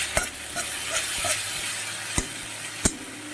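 Ground spices with chili and turmeric frying in a pan as water is added, giving a steady hiss with a few sharp spatters and stirring clinks.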